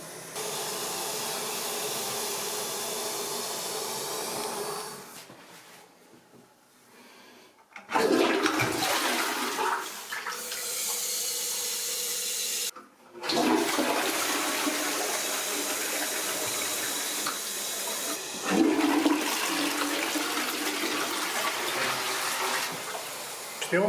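Toilets flushing one after another in public restrooms, each a loud close rush of gushing water that swells, drains away and gives way to the next, with brief quiet gaps between flushes.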